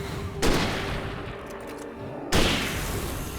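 Two sharp gunfire bursts from the video game Alan Wake Remastered, each a sudden loud blast followed by a decaying rumbling tail, spaced about two seconds apart.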